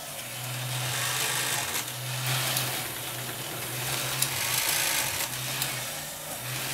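Small electric motors of a Meccano fortune-teller automaton switched on by a 32-step rotary sequencer, a steady whirring hum with a low drone pulsing on and off in stages, alone and fairly close.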